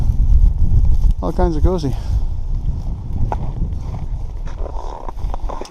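Wind gusting on a snowy mountain trail near Zealand hut in January, a loud low rumbling buffet beneath a person talking.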